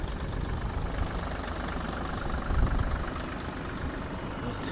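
A Mitsubishi GOZ-32 Japanese mini tractor engine runs steadily in third gear with its tiller blades turning, a continuous mid-to-low drone at moderate level with a slight swell partway through.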